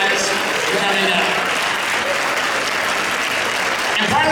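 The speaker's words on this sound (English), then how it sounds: "Give them a round of applause." A panel-discussion audience gives the panel members a loud, continuous round of applause, dense and even throughout, with voices faintly mixed in.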